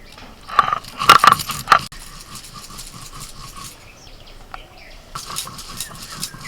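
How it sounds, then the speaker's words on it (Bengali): Whole cumin seeds being ground on a stone in a village kitchen, producing a cluster of sharp crunching scrapes early on, then quieter rubbing strokes and a few scattered knocks near the end. "গোটা জিরাটাও বেটে নিচ্ছি।"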